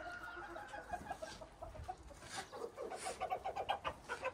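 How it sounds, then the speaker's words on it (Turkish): Two hens sit together in a nest box, clucking softly in a quick repeating rhythm, a close but quiet run of short calls growing busier toward the end. "İki tane tavuk aynı yerde yatıyor."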